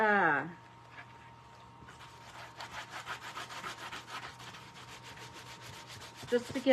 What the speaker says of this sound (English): I'm just taking my sander and roughing up this plastic a little bit